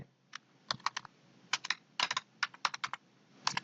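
A computer keyboard clicks in quick, irregular bursts of keystrokes, close and clear against a quiet room, with short pauses between typed words.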